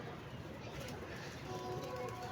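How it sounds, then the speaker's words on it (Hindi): Pigeons coo softly and faintly amid steady outdoor ambient noise as a flock circles overhead, with no voices. "सारे अपने कबूतर सामने फिर रहे हैं"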